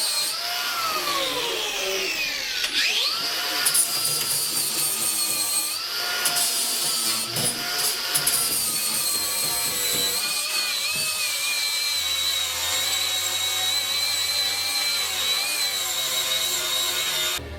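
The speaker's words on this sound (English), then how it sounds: "I'm going to get me flappy disc on the grinder and just try and grind out the areas that are a bit shit" An angle grinder fitted with a flap disc grinds rust and body filler from a Toyota Hilux body, a loud continuous high whine that rises and falls in pitch as the disc bites into the metal, with no talking.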